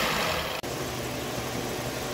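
A Changan car engine, just repaired, idles with a steady mid-pitched hum and vibration, close up, with one very brief dropout near the start and no speech.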